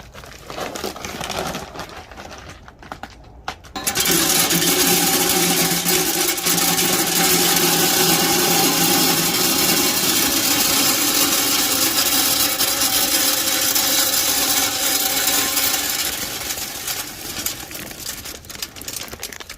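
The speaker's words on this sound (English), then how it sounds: "You can put the pellets in. I got some signature pellets." Wood pellets pour steadily into the hopper of a Traeger PRO 22 pellet grill, a dense, loud rushing rattle that goes on for many seconds after a short pause, then tapers slightly at the end.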